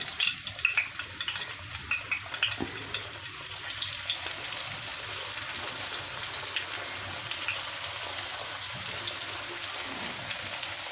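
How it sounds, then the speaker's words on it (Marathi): Pieces of bangda (mackerel) fish fry in a pan for a Malvani-style dish, producing a continuous hissing sizzle that holds steady and close, with a few clinks near the start. "सुरुवातीला मी तीनच पीस टाकते आता आता दोन मिनटं एका साईडने फ्राय करायचं"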